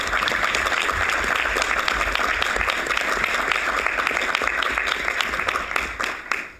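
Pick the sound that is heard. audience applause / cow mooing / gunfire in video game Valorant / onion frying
audience applause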